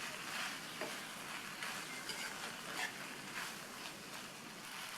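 Coriander and mint leaves are stirred in a hot pan, making a continuous quiet sizzle with a soft rustling of spoon and leaves throughout.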